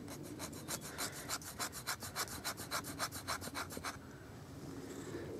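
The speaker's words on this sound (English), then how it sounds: "So just make some little shavings just by scraping." A bushcraft knife with an HSS blade scrapes shavings from wood in a quick run of about twenty rhythmic rasping strokes, close and crisp, followed by a quiet pause.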